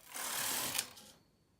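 A knitting machine carriage is pushed across a zigzag row from left to right, giving a brief, smooth whooshing rattle that fades out with no talk.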